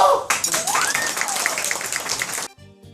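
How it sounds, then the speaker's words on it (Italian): Brief applause from a small group on a guided visit to La Gomera, a short burst of clapping with voices and a cheer mixed in, cutting off abruptly after a couple of seconds. "Un applauso!"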